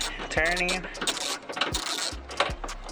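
A ratchet extension turns to loosen a ducktail spoiler bolt on an FRS, BRZ or GT86, giving a run of close, sharp ratcheting clicks in uneven bursts.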